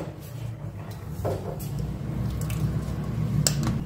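Boiled rotis are lifted out of a pot of boiling water, with soft wet squelches and drips falling back into the water over a steady, loud bubbling hiss.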